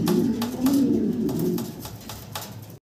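A pair of red Sirazi fancy pigeons cooing close by, soft low throaty coos repeating in a steady rhythm over faint background noise.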